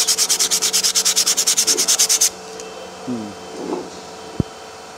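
Rapid rhythmic sanding strokes scrape loudly across a hard, metal-rich brake lining for a couple of seconds, then stop, followed by a few faint clicks and a sharp tap.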